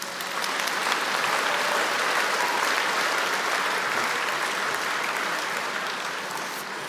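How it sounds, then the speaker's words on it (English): A large audience at a secondary school graduation ceremony applauds. The clapping is a dense, steady wash that holds at full strength throughout and then eases slightly near the end. "Let's give them a round of applause."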